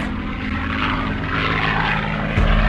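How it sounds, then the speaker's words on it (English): A propeller-driven drone aircraft flies past in a steady, loud engine drone with a rough buzzing hum and no talk over it, reported as a wartime unmanned plane used against Japanese ships in the Pacific. "Once the drone is airborne, a pilot flying in a nearby bomber takes control."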